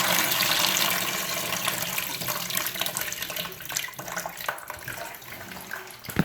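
A toilet tank refills with water after a fill valve replacement, a steady close rushing and hissing flow with small gurgles and clicks that continues throughout.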